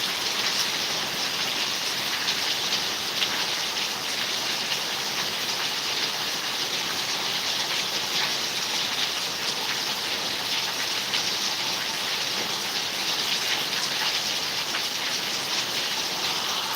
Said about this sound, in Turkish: Saçaklardan akan yağmur sel gibi kanalizasyonlara gidiyor.